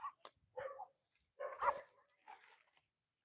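A dog gives several short, yappy barks in quick succession, fairly faint against a quiet background, then falls silent.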